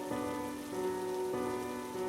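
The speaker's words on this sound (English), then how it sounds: "It started raining heavily the next morning, and the cats had been meowing since dawn." A steady hiss of heavy rain falls on surfaces, blended with soft sustained musical tones in the background.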